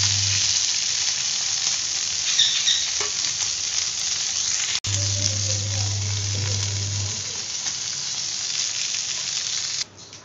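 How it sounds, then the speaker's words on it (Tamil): Fish frying in oil for a fish curry, a steady close hiss and crackle of sizzling throughout, with a short sharp click midway and faint stirring, no talking. "இதே மாதிரி எல்லா மீனும் பொரிச்சுக்கலாம்."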